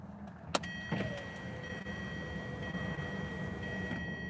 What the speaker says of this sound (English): Can I close the window now?